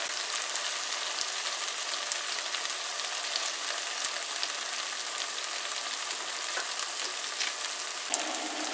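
Bhunjal-style dhal sizzles steadily in a pot, a dense continuous frying hiss with faint scrapes and small pops throughout, no voices.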